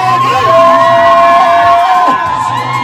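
A loud crowd at a birthday party cheers, with sustained high trilling ululation held for about two seconds over a dense background of voices, close and filling the space.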